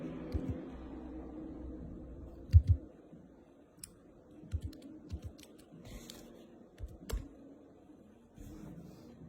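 Keys clatter on a computer keyboard in irregular bursts of clicks, fairly close, with occasional louder taps and a low hum underneath.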